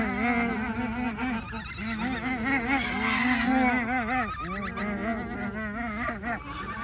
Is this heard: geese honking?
yes